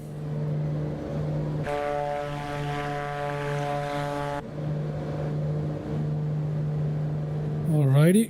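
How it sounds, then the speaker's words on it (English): Landing gear of a Black Square Grand Duke twin-engine aircraft in MSFS 2024 retracting with a steady mechanical whine for about three seconds over the constant drone of the propeller engines. "Let's put those gear up."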